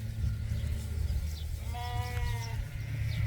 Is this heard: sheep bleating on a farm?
yes